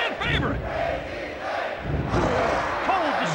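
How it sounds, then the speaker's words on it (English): Capacity arena crowd cheering in the WWF Attitude video game, a loud, continuous roar of shouts and cheers, with voices talking over it. "Listen to this capacity crowd!"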